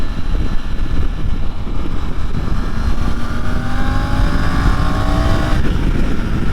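A 2024 Triumph Tiger 900 GT Pro adventure motorcycle engine under way, a steady loud drone with rising tones as the rider accelerates and shifts, accompanied by constant wind rush.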